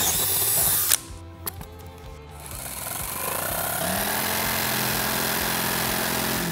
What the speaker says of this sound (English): so we're going to drill a hole and then use the scroll saw or the